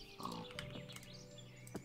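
Pigs grunt in the game Minecraft, a few short oinks close by over a quiet background.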